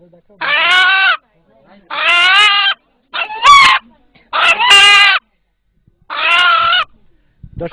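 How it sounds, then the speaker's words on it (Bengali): Eight-month-old rooster crowing loudly and close, five long harmonic calls spaced a second or so apart, with a voice briefly speaking in between. "এখানে উপস্থিত যারা এই মোরগের ডাক শুনলেন"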